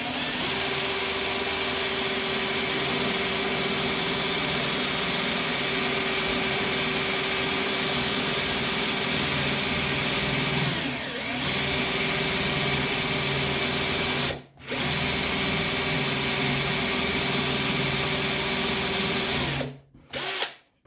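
A Parkside PWBSA 12 A1 cordless angle drill runs loud and close for about twenty seconds with a steady motor whine that shifts slightly in speed, briefly cutting out twice near the end.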